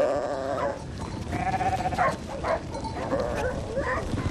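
Sheep bleat repeatedly in Patagonia, several wavering calls overlapping against a busy flock and outdoor background noise, fairly close and moderately loud.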